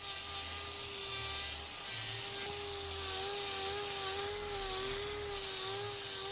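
A grinder trims horn from a cow's sore hoof, a steady, close, high-pitched whine held at an even level throughout with a faint low rumble beneath, no speech.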